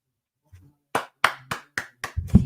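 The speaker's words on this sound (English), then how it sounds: "you just gotta clap" A handful of crisp, close hand claps ring out one by one after a short silence, evenly spaced and growing slightly busier at the end.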